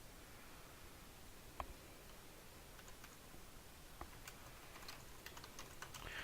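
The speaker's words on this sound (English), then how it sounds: "I'm just typing something out" Keys on a computer keyboard are tapped faintly in a quiet room, with sparse soft clicks that grow into a light cluster near the end over steady background hiss.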